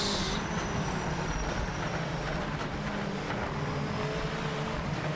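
Racing cars in the video game Project Motor Racing roar steadily around a track, a continuous dense engine drone with a whining higher tone, loud and unbroken throughout with no voices.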